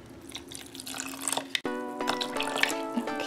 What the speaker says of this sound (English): now I'm gonna pour in a little bit of the borax solution